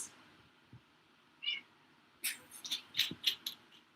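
A house cat meows late at night, a faint early mew followed by a run of four or five short, close meows in quick succession, with no talk over them.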